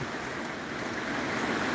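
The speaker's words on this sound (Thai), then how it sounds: "มีฝนมีลมมีฝนฟ้าขนองครับผม" A steady, dense hiss of rain falling, even and continuous with no voices.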